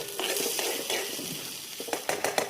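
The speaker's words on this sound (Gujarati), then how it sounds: "ડુંગળી તમને મસ્ત ફ્રાય થઈને દેખાતી છે." Onions and tomatoes fry in hot oil in a pan, a steady sizzle broken by scraping stirs and a few clinks of a utensil against the pot.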